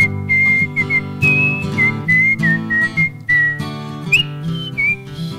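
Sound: people whistling a tune

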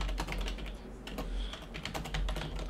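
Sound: computer keyboard typing

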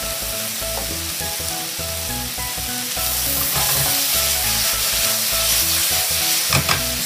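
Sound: pork and kimchi frying and sizzling in a pan

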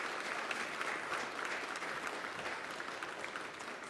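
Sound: congregation applause in church worship service

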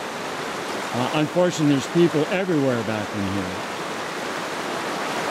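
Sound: water flowing in Fossil Creek, Arizona

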